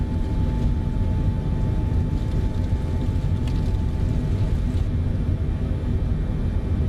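Jumbo jet (Boeing 747) takeoff roll in Microsoft Flight Simulator, a steady loud engine roar with a constant whine and rumble, unbroken and without talk.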